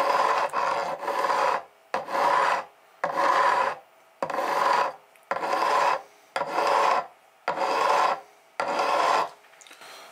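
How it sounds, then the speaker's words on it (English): A fret leveling file scrapes along the frets of a Fender Thinline Telecaster neck in eight loud, close, even strokes, each a harsh rasp of about a second with short silent gaps between. "I have my handy dandy fret leveling file"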